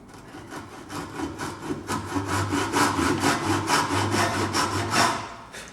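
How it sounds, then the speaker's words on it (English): A hand saw cutting a mortise and tenon joint in wood with repeated back-and-forth rasping strokes in a steady rhythm, close and fairly loud. "I'm going to saw down this line"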